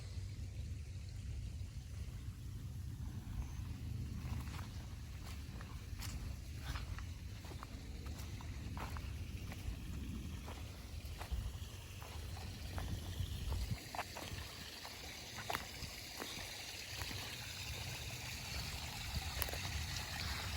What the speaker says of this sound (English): One little waterfall.